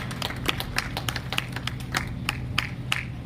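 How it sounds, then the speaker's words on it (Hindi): An audience at a Shrimad Bhagwat Katha religious gathering claps together in a short burst. Many hands strike at once in a fairly loud, even patter that continues without a break. "बजा लो ताली"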